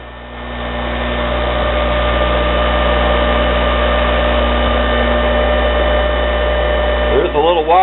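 A homemade bench grinder fitted with a grindstone spins up and runs at a steady, loud, droning hum with a constant electric whine. Near the end there is a brief warbling shift.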